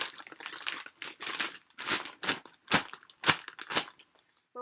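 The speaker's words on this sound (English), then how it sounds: "We are going to take this plastic bag, we're going to turn it into a trash can." Plastic crinkling and rustling in a series of sharp bursts with short pauses, close by and fairly quiet, no voices.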